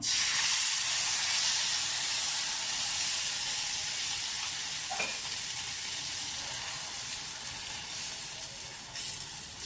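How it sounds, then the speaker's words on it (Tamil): Uthappam batter with prawns sizzles steadily on a hot griddle stone, a loud, close, continuous frying hiss with no talking. "இப்போ கல் நல்லா காஞ்சிடுச்சுங்க இப்போ ஊத்தப்பம் போட்டுக்கலாம்"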